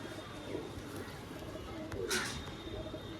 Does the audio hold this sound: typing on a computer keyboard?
no